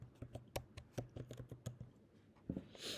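Quiet typing on a computer keyboard, a quick irregular run of soft key clicks with brief pauses, close and alone.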